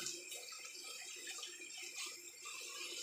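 Tap water runs strongly into a sink while watercress is washed for soup, a steady close hiss with no talk.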